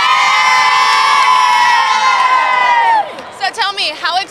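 Children on the New York Stock Exchange floor let out a loud, sustained cheer that holds for about three seconds, then breaks off into a few short shouts and scattered voices.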